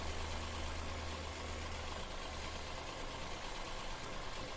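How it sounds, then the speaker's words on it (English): An older tractor engine working in the Farming Simulator 17 video game, a steady low idling drone that holds even and unbroken throughout, with no voices. "I like to see older tractors working and not just sat around"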